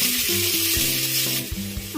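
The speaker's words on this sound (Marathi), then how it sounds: "आपलं तेल इथे गरम झालेलं आहे कांदा टाकते आता" Bright hiss of onion sizzling in hot oil, with low tonal hum and scraping mixed in, fairly loud and close.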